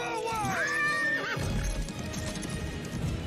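A video-game horse whinnies loudly in a rising, quivering neigh from the Battle for Lordaeron scenario, followed by a dense rumble of battle noise and hooves beneath a talking voice.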